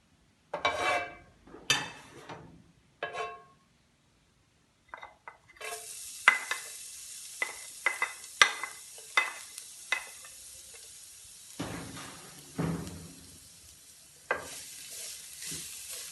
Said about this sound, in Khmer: ឥឡូវនេះយើងធ្វើការលីងខ្ទឹមជាមួយនឹងត្រីសាម៉ុនចាក់ប្រេងចូលមក